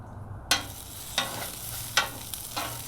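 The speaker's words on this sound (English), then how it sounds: "It's just basically the peppers on top of the Blackstone" Peppers sizzle on a 22-inch Blackstone griddle with a constant frying hiss, broken by four crisp scraping stirs of a spatula against the hot steel surface, close and clear.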